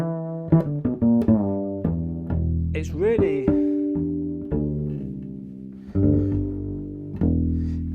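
Double bass with a Fishman Full Circle pickup played through an Acoustic Image Clarus SL amp and speaker cabinet, giving clean plucked notes with deep sustained tones, a brief slide and a few percussive string attacks, with one word spoken briefly.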